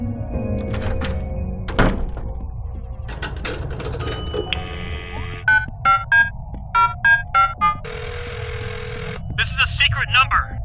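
In the Adventure Time video game, a payphone takes a coin with a thunk, then a rapid series of electronic dialing tones sounds, followed by a ringing tone, all close and clear.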